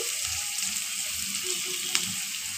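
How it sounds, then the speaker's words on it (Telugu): Onions fry in hot oil until reddish, giving a constant close sizzle and crackle with a faint clink partway through, and no voices. "ఉల్లిపాయలు ఎర్రగా వేగాయి."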